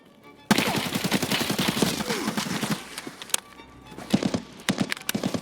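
Gunshots in Escape from Tarkov during a hardcore-wipe firefight: rapid bursts of sharp, loud reports in quick rhythmic succession, with a few heavier isolated shots and a brief lull before more firing.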